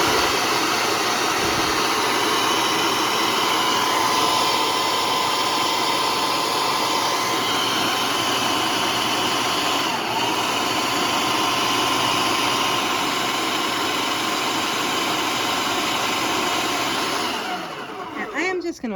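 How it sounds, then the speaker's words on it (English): A countertop blender pulses cottage cheese with eggs for egg muffin bites, a loud steady whirring motor roar holding for most of the stretch before winding down at the end. "Just going to pulse this until all the big chunks of cottage cheese are dissolved"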